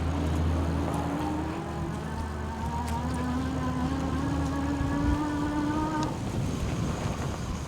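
A HEYBIKE Horizon Limited Edition e-bike rides across a yard, its steady rising motor whine carried over a continuous low rumble and wind noise, close and fairly loud throughout.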